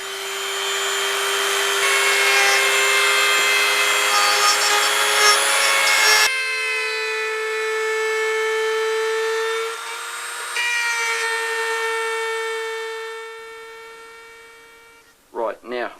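A high-pitched power tool whines steadily while cutting grooves into a cracked steering wheel being prepared for epoxy putty repair. The pitch drops partway through as the tool loads up, then a couple of short scraping bursts follow near the end.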